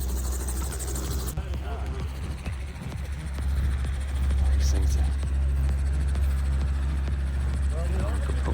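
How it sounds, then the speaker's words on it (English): A helicopter getting ready for takeoff gives a constant low engine drone and rotor thrum that swells louder partway through, while someone talks over it. "right now, we're gonna check out this helicopter"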